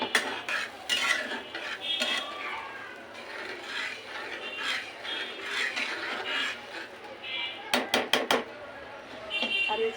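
Tomatoes go into a cooking pan and are stirred with a metal utensil, bringing scraping, rubbing and clinking against the pan over a soft sizzle, with a burst of sharp taps near the end.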